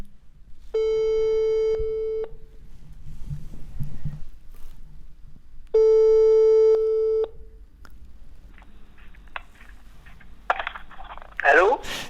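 Outgoing telephone call ringing, two long steady ringback tones several seconds apart over a quiet room, with soft handling noise between and a brief clatter at the end as the call connects.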